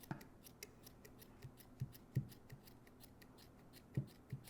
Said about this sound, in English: I'm just using scissors that I use every day.